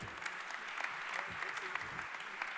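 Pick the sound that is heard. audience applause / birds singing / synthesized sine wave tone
audience applause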